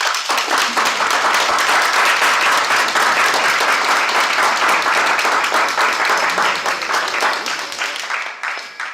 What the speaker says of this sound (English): I would love to request that we give all of the contestants a reverberating round of applause.